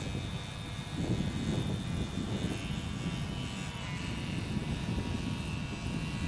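An XUAV One model airplane's electric propeller motor drones steadily in flight at partial throttle, a continuous buzzing whine with a broad low rumble of wind, constant and fairly loud without talk.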